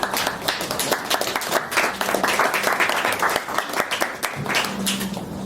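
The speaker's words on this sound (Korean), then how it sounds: "박수로 환영해 주십시오." Audience at a hanok house concert applauding to welcome a guest speaker, dense close clapping that holds steady and loud for several seconds.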